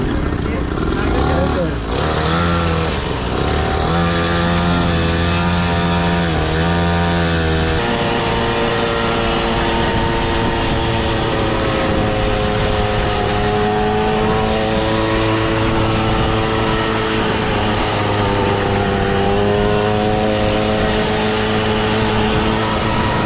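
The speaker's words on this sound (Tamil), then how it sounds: "முறுக்குங்க ஃபுல்லாக முறுக்குங்க." A motorcycle engine is revved hard at full throttle, its pitch rising and falling loudly and continuously throughout, while people talk over it.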